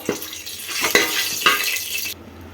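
A spoon stirs whole spices with bay leaves and cumin in a hot pan for tomato bath, giving soft scraping strokes over a faint sizzle, close and steady, with no talking.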